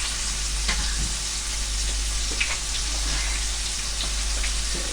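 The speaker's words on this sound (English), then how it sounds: "just going to cook the black pudding in the same pan" Black pudding fries in a pan, giving a steady, close sizzle with scattered small pops and crackles throughout and no talking.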